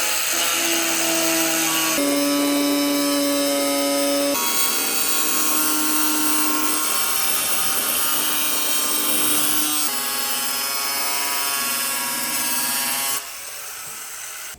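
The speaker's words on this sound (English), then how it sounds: "pretty good for the first time really using an angle grinder" An angle grinder cuts through Bondo body filler on a Mazda Miata body, a loud continuous whine that shifts pitch as the load changes and runs without pause for about fifteen seconds.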